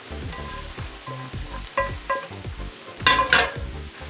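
Sauce sizzling loudly in a hot pan while vegan fried rice is being made, a steady frying crackle with bursts of stirring scrapes and a sharper surge of hissing near the end.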